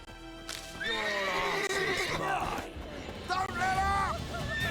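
Horses in The Witcher 3 video game whinny loudly with drawn-out neighs and a clatter of hooves, while several voices talk over the commotion.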